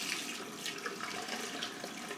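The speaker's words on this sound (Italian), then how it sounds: "risciacquo del viso con l'acqua calda" Hot water runs from a bathroom tap as a face is rinsed during a straight-razor shave, a steady, soft hiss and splash heard alone and fairly faint.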